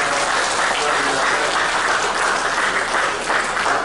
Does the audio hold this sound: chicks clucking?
no